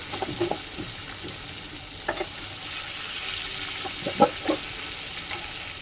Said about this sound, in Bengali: তো এই যে পাঁচ ফোড়ন দিয়ে একটু এই যে ভেজে নিচ্ছি আমি এখন দিয়ে দিচ্ছি টমেটো আর কাঁচা লঙ্কা দিয়ে দিচ্ছি দুটো